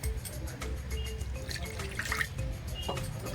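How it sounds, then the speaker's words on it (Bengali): Water trickles and drips faintly into a bowl of yogurt and salt for pakora batter, a soft, brief liquid sound close by. "একটু জল দিয়ে"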